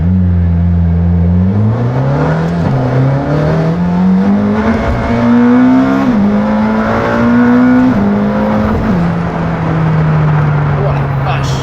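A McLaren Senna's 800 hp turbo V8 revs hard and high, its loud steady tone climbing in steps through the gears for nearly twelve seconds, with people talking over the engine.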